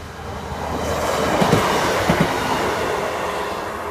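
Lincoln to Leicester passenger train arriving at Collingham station level crossing, a steady loud rumble of wheels on rails with a few sharp clicks and faint squeals as the carriages roll past close by.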